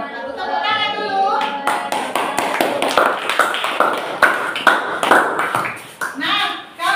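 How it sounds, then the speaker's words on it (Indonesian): Classroom of students applauding together, a dense burst of clapping from many hands that starts after a moment of talk and carries on for several seconds, with voices mixed in. "Tepuk tangan dulu."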